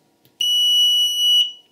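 A 6th Sense International intruder alarm unit sounds a loud, piercing continuous electronic tone for about a second, starting abruptly after a faint click and cutting off cleanly.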